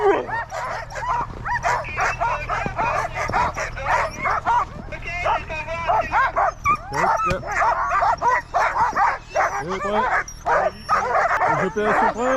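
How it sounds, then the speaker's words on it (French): Sled dogs at the start of a La Grande Odyssée race bark, yip and whimper continuously in an excited chorus, close and loud, with people talking among them. "Heureusement que j'ai mes chiens qui ne bougent pas et qui attendent calmement."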